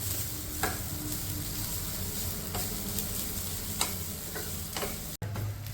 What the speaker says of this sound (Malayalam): തേങ്ങ ഇട്ട് നല്ല ബ്രൗൺ നിറമാകുന്നത് വരെ നമ്മൾ വറുത്ത് കൊടുക്കും